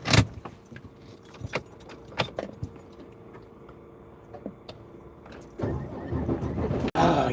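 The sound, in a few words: truck engine starting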